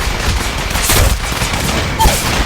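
Apex Legends Mobile gunfire, loud, dense bursts of automatic shots and blasts in a chaotic video game firefight, with heavy impacts throughout and no speech.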